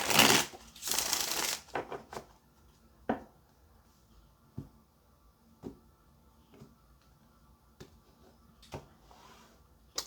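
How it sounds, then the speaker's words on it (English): Tarot cards being shuffled in a quick riffle burst at the start, followed by sparse soft taps and flicks of cards being handled on a quiet surface. "Let's get one more shuffle"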